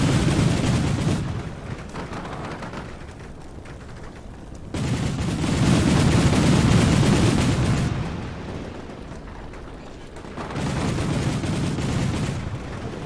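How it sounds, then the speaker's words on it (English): Military vehicle gunfire pounding enemy positions in the war game Shock Force 2, loud rolling bursts of heavy fire in long waves, easing between salvos, with no talking. "now it actually looks like our vehicle is firing at all of these different positions"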